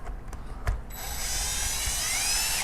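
A driver with a hex bit unscrews the pad screws on a Ridgid orbital sander. A few sharp clicks come first, then a steady, close, high-pitched mechanical whir, with no voices.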